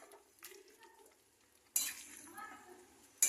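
Cauliflower curry with yogurt and turmeric being sautéed in a pan, quiet sizzling broken by a couple of sharp scraping stirs and metal clinks from the spoon against the pan, close up with no speech.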